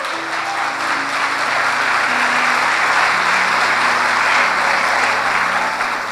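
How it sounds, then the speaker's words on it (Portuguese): A church congregation at a consecration service claps for Jesus, producing a loud, sustained wash of many hands, while low held musical tones from instruments play underneath throughout. "dê um aplauso a Jesus"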